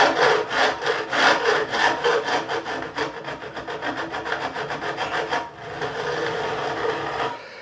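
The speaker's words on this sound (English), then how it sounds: "Taking off the main with this file, which is quite coarse." A coarse file is stroked rhythmically across the frets of a 1978 Fender Stratocaster during a refret, its strokes rasping steadily and close up before slowing into a quieter, smoother run near the end.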